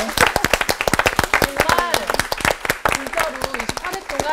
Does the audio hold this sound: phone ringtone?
no